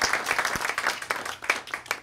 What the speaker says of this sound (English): Let's applaud that point.